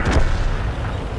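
Tank cannon fire in World of Tanks, from a Churchill Crocodile battle: a single heavy, booming blast with a deep low rumble that lingers for about a second.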